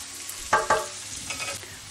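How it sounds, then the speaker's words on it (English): Pigeon peas sautéing in coconut oil in a pan, with two sharp spoon-and-pan scrapes early on, then softer stirring over a quiet, steady sizzle; close and alone, with no talking. "Just going to saute this for a few minutes."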